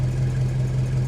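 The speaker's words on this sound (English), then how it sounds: "it made the exhaust sound heaps better" Holden VC Commodore idling steadily with a new exhaust, a deep even rumble that stays loud and close for the whole short stretch, with no talking.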